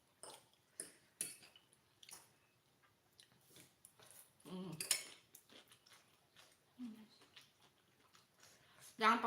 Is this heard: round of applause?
no